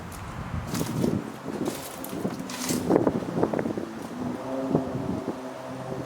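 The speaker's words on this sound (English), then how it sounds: "Lots of wind blowing through this place." Wind gusts through an abandoned mansion, a steady rushing roar with buffeting against the microphone and faint creaks and rattles scattered throughout, moderately loud and continuous.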